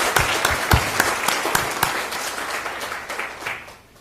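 Audience applause at an ocean symposium, with a few sharp individual claps standing out over a dense steady patter that fades away toward the end.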